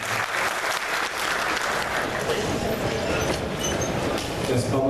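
A church congregation claps in dense, sustained applause that stays loud and even throughout.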